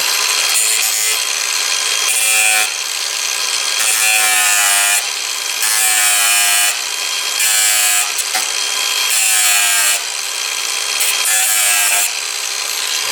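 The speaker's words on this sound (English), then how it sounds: "now I have to cut carefully these two steel bars in here, my angle grinder" An angle grinder cuts through steel bars during a Toyota Prius MAF sensor job, loud and harsh in repeated bursts of a second or two with brief pauses between, no talking.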